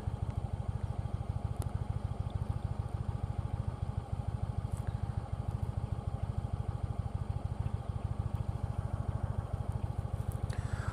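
An Indian Chieftain motorcycle idling with the clutch pulled in, a steady, even low-pitched throb with a regular pulsing beat, heard close and alone with faint wind.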